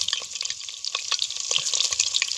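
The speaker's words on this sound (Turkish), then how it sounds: "O yüzden kuyruk yağ sesi bu, doğru mu?" Lamb tail fat sizzles in a pot of güveç with onions, a dense crackling spatter that stays steady and close throughout.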